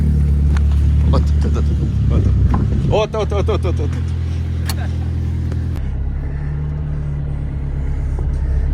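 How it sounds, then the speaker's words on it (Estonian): An Opel Ascona is driven around a garage, its low engine rumble running steadily under people talking nearby; the engine note drops and changes briefly midway, then settles into a quieter idle-like hum. "Iga kord, kui me garaažis käime, me sõidame autoga ümber garaaži."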